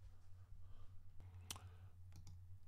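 Several sharp, isolated computer mouse clicks sound close by against a quiet, low hum, with one louder click in the middle and two lighter ones near the end.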